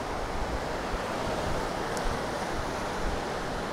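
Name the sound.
ocean surf waves at Godrevy, Cornwall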